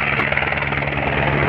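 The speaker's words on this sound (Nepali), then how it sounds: "हेलिकप्टर सेवा चाहिँ आइरहेको छ" A helicopter flies near Annapurna Base Camp on a Himalayan trek, giving a loud, steady engine drone with a fast, even rotor throb and no voices.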